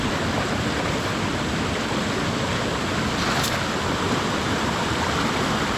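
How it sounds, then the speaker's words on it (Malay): A waterfall at a fishing spot gives off a steady, dense roar of rushing water that stays even throughout, with no voices. "aku ada dekat air terjun"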